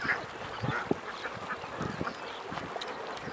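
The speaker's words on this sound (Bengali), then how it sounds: "ওনাদের খামারে 2000 হাঁস আছে।" Ducks on a village duck farm of about 2000 birds quack in scattered, overlapping calls at a moderate distance over a hissy outdoor background, with a few sharper bursts near the start.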